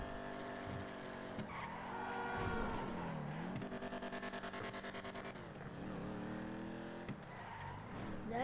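Car engine and squealing tires in GTA Online: a sustained, loud engine drone with shifting pitch, a rapid fluttering stretch mid-way, and tire squeal as the car skids, with no talking.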